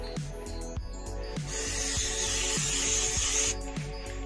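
Liqui Moly silicone spray hisses from an aerosol can onto a rubber trim seal on a Nissan Qashqai, a sustained close spray burst in the middle with short clicks and handling knocks before and after.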